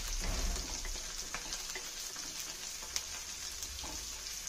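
Garlic and cumin seeds fry in a pan for a Telangana coconut chutney, giving a steady, soft, close sizzle and crackle with a few small pops, and no talking.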